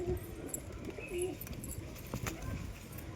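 Pigeons coo softly in a few low, short calls, close but quiet, over faint background rustling.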